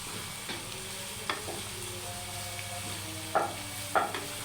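Fried potatoes and carrots in gravy are stirred in a pan over a low sizzle, with a few sharp spoon scrapes and clinks, the loudest two near the end.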